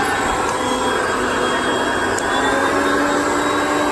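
A Hoover Concept One vacuum cleaner running in power drive, with a loud, constant motor roar and a steady high whine, close up and with no talk.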